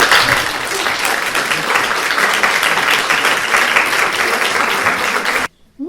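Dense, steady applause from a concert audience at a Ukrainian romance evening, filling the room loudly for over five seconds before cutting off abruptly near the end.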